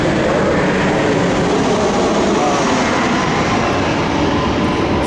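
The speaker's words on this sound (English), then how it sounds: "Airplane passing by." An airplane passing overhead outdoors, a loud, continuous broadband roar that stays steady and dense for the whole stretch, with no talk over it.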